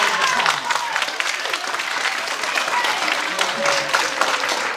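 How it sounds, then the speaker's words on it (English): Audience at a library concert with school students giving a round of applause, dense steady clapping from a large room that stays even and fairly loud for the whole stretch, with a few murmured voices beneath. "So let's give yourself a round"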